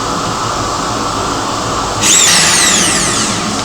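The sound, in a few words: drill cutting a round hole in motorcycle fender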